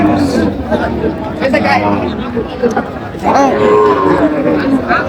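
A cow moos loudly and nearby at a cattle market in Ambari, Dinajpur, a few drawn-out calls over a background of people chattering.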